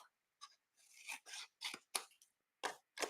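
Scissors cut card stock for a birthday gift box card in a series of short, close, quiet snips and strokes separated by brief silences.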